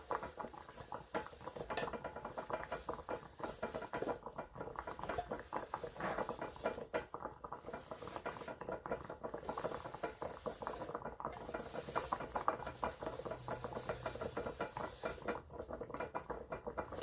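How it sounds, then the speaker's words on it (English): A paper towel rubs and scrapes steadily around the inside of a wax melt container, a close, continuous patter and rustle that goes on without speech. "all I'm doing is wiping it out with a paper towel"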